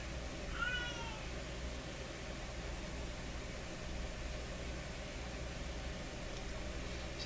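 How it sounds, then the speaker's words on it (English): A single short cat meow sounds faintly early on, then fades into a steady hiss and low hum from an old Sparton 1567 tube radio. "Poor cat."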